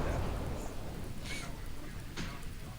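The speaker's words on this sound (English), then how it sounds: "And then it stopped raining." Steady rain falls in The Touryst game world, a dense, continuous hiss of drops with low rumbling beneath and a couple of brief brighter splashes, while people talk quietly over it.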